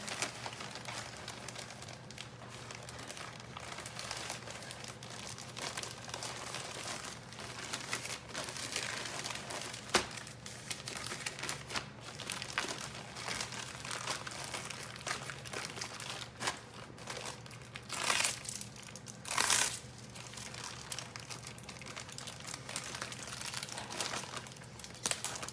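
A plastic eBay shipping bag crinkles and rustles while an item is packed inside, with soft irregular crackles and a few brief louder crunches, close and fairly quiet, with no talking.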